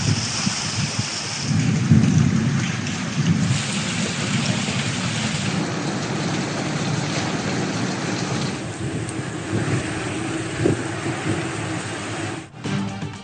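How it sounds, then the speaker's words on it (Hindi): Heavy pre-monsoon rain pours steadily in Lahore in the early morning, a dense continuous hiss with low thunder rumbling through it, strongest early on, with no voices. "लाहौर में प्री मानसून का जलवा। सुबह सवेरे तेज बारिश"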